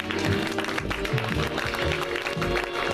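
Audience applause at a live evening show, a steady dense wash of clapping filling the room throughout, with some voices mixed in underneath.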